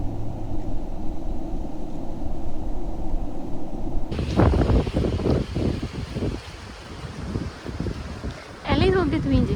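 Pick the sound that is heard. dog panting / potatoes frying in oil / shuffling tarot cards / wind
wind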